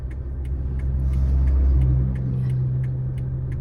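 A car driven on the road by a learner on a first day out, pulling in second gear, gives a deep, steady engine rumble that swells slightly midway and then settles into an even drone.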